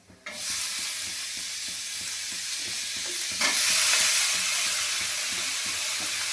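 Chopped bottle gourd goes into moong dal frying with cumin in a pan, bringing a steady close sizzle with rhythmic stirring scrapes. The hiss swells louder partway through as the pieces hit the hot oil.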